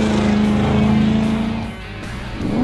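A Ronaele 700R Mustang engine roars loud and close, a sustained tone that dips briefly and then climbs again as the revs rise.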